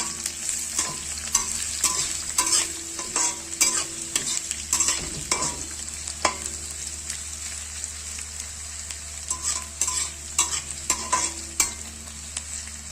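Onions browning with garlic in hot oil in a pan, sizzling steadily while a spoon scrapes and stirs in repeated strokes, close and clear with no talking.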